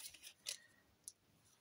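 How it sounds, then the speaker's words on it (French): Scissors cutting paper for a fairy-themed collage in a notebook, a few faint, crisp snips spaced irregularly close by in a quiet room. "Je vais couper"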